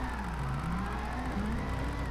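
Lamborghini Huracan Gr3 race car engine in the video game Gran Turismo Sport during a drift run, a faint steady engine drone with rising and falling pitch and a tyre-squeal tone, with no talking.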